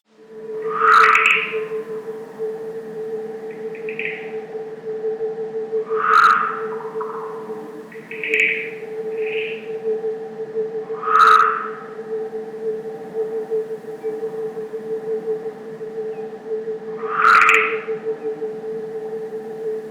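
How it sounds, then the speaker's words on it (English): Crickets recorded ultrasonically and played slowed down, a steady low drone under sparse, bright chirp-like calls that repeat every few seconds in a loose overlapping rhythm. "Here's another example of crickets which, when played slow down, form this very interesting polyrhythmics."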